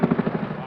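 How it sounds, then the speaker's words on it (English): Military helicopters flying low and fast overhead at Kandahar Airfield, a rapid rhythmic rotor thumping, loud and close, with a voice talking over it. "Helicopters fly low and fast right overhead, taking soldiers to meet the enemy."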